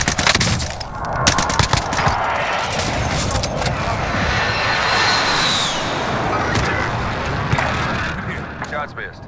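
Close air support strike in the Warzone video game: dense bursts of automatic gunfire and heavy impacts with an aircraft roaring past overhead, loud and continuous, with radio-style voice callouts.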